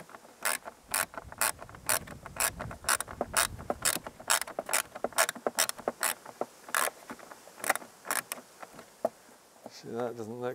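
Small fasteners being tightened on the plastic headlamp housing of a Yamaha XJ-900 Diversion motorcycle, heard as a long run of quiet, irregular clicks and ratcheting ticks close by, with a brief whirring sound at the end.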